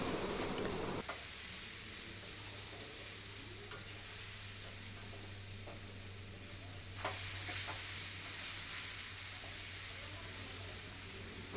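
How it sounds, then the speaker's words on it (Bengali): Salt is stirred into a banana-flower ghonto cooking in a pan, giving soft scraping and stirring sounds over a continuous sizzle and hiss, with occasional light taps of the spoon, and no talking. "লবণটাকে ভালোভাবে এখানে মিক্সড করে নেব"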